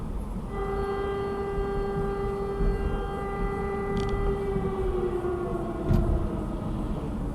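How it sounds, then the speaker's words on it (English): A long, steady wail of an air raid siren over Kyiv, Ukraine, drones over a rumbling background, sustained and distant, slowly sagging in pitch near the end. "Distinctive sound of air raid sirens blaring out across the Ukrainian capital this morning."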